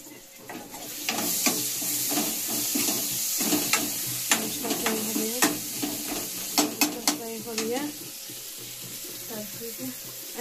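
Spices sizzle in a pan while being stirred and pressed, giving a continuous frying hiss broken by sharp scraping and clattering strokes, busiest in the middle. A faint voice is heard in the background.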